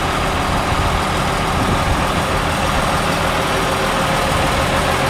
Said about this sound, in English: they're pumping that the wheels with the air compressor to get it on the sliders